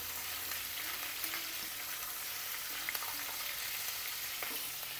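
Paneer with capsicum sizzling and frying in a pan as it is gently stirred, a steady hiss with soft scraping touches and a few faint clinks, close by and fairly quiet, with no voices.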